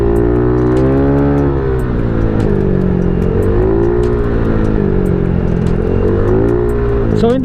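A Honda Click 125 scooter with a big-valve engine revs hard and continuously, its loud, close engine note rising and falling in pitch through repeated throttle blips.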